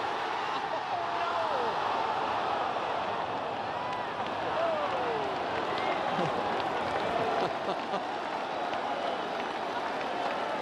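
A large golf gallery at the 2008 US Open at Torrey Pines, a crowd of about 4,000, yelling and cheering as a putt just misses; a sustained roar of many voices at moderate distance with scattered shouts.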